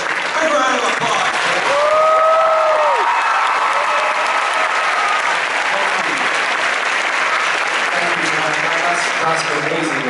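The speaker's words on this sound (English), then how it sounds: "Big round of applause." A comic con panel audience bursts into a big round of applause, loud sustained clapping and cheering from a large crowd, with a few voices calling out over it.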